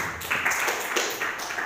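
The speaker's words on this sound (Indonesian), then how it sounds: "Tepuk tangan dong" An audience at a talk on entrepreneurship bursts into brief, fairly loud applause, a short dense patter of many hands lasting under two seconds.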